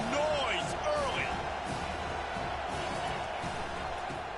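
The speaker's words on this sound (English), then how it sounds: "This crowd bringing the energy and noise early." A college football stadium crowd roars in a dense, continuous wall of cheering and whoops, with a few whistles rising early on and a commentator's voice running over it.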